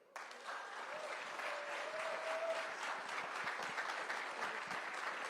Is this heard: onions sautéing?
no